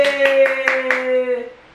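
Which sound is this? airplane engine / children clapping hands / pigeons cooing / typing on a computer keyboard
children clapping hands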